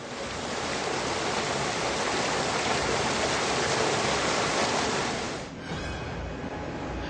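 The Mandakini river flows near Kedarnath temple in a loud, continuous roar of rushing water close by, then the rush briefly dips and returns more thinly near the end.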